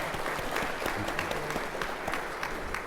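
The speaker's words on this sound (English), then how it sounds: "Let's give that guy a nice round of applause" A crowd at a county precinct address gives steady applause, a dense continuous wash of clapping lasting throughout.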